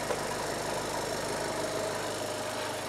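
A 2018 Skoda Octavia engine runs steadily and close up, with a continuous mechanical hum and drone that holds a nearly constant level and shows no clear rise in revs.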